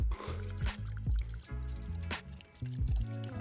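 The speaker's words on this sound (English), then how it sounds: "Strain over ice." A whiskey sour is poured through a Hawthorne strainer and a fine strainer over ice, giving a soft, close trickle broken by scattered drips and small splashes, with no talking.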